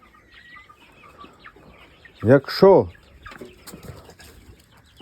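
Chickens around the feeders give a quick pair of clucks close by, with faint scratching and pecking sounds before and after and someone speaking briefly.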